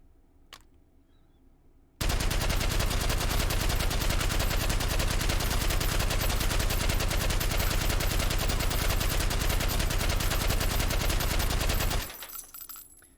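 An M60 light machine gun fitted with a suppressor fires in the H3VR virtual-reality shooter: one long, dense, continuous burst of about ten seconds, loud and close, cutting off abruptly.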